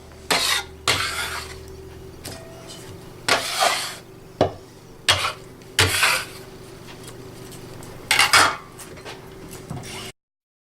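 Cucumber, tomato and other salad ingredients are tossed together in a bowl, giving a series of sharp clinks and wet knocks in irregular bursts with quiet gaps between, close and moderately loud, with no talking.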